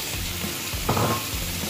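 Red beans tipped into minced meat frying in ghee, giving a steady broadband sizzle with a brief louder burst of frying partway through, close and continuous with no talk.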